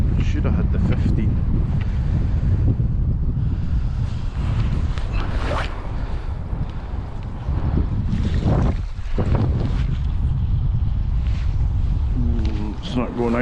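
Strong, continuous wind buffets the microphone aboard a small sailing boat, a loud, rough roar that persists unbroken with faint water sounds beneath.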